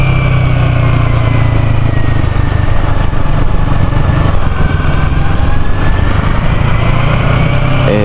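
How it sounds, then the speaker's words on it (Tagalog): A motorcycle engine-brakes down a steep hill in Batanes, a loud, close, continuous whining engine drone with wind buffeting and no talk. "Ayan, nag-engine brake yung motor natin."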